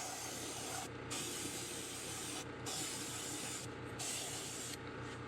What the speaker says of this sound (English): compressor's going